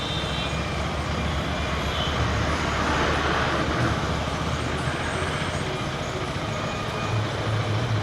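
Heavy road traffic near the Hosur Sipcot bridge construction, with trucks and buses rumbling past in a dense, steady roar of engines and tyre noise, loud and close, with no talk.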